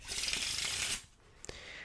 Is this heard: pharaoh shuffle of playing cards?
yes